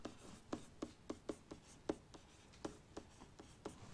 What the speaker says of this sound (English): Here, I'll just write